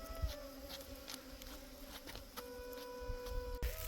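Honey bees buzz around a person's head during a honey harvest in the mountains, a steady close insect drone with fluctuating pitch that runs throughout.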